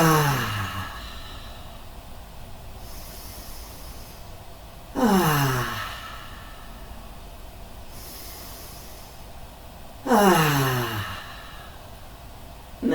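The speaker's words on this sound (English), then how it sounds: "And an audible exhale." Audible exhales during seated chair yoga breathing: three breathy, whooshing out-breaths about five seconds apart, each starting strong and fading, close and fairly loud with quiet pauses between and no talking.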